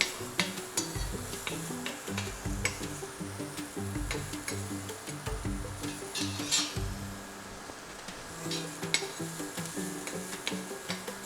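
Onions caramelizing in a pan for a roasted cauliflower curry, sizzling steadily while a utensil scrapes and clinks repeatedly against the pan, close and without talk.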